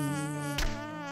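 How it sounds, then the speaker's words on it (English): A steady, high-pitched mosquito whine with rich harmonics drones continuously, close and loud, with a brief noisy burst midway. "The mosquito makes a very annoying buzzing sound thanks to her wings"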